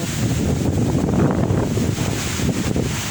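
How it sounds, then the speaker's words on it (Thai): Strong wind roars steadily across a mountain top at Khao Phraya Doen Thong in Lopburi, a loud, constant buffeting rush that batters the microphone with no pauses. "ลมแรงมาก"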